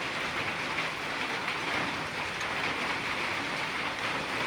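Steady rain falling in a Western Ghats forest near a wooden cottage, an even, dense patter and hiss with no distinct drops standing out and no voices.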